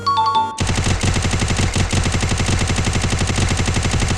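Rapid, continuous automatic gunfire from a gun in a mobile shooting game, loud and steady after a brief stretch of game music, with no voices.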